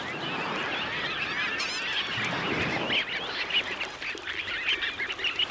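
Shorebirds on a beach among horseshoe crabs call in a noisy, overlapping chorus of honking and squawking cries, loud and close, with surf-like hiss underneath.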